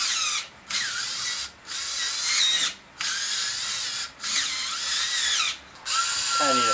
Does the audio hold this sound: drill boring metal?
yes